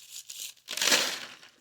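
A plastic bag wrapped around a magnet crinkles in a couple of short, close, crisp rustling bursts, the second one longer and louder.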